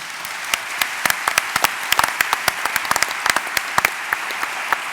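Audience applause for organic farmers at a university debate on food and health, sparse individual claps rising into a steady close round of clapping lasting several seconds, with no talk over it.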